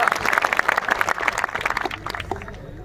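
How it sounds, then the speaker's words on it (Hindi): An audience at an award ceremony claps and applauds loudly, the patter of many hands tapering off toward the end. "दोनों भाइयों के लिए जोरदार तालियां।"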